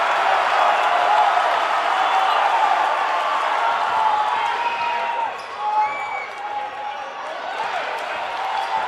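Crowd at a Marmion Academy vs Metamora high school basketball game roaring steadily for Metamora, a loud, sustained wash of cheering with sneaker squeaks and ball bounces, and a commentator talking over it.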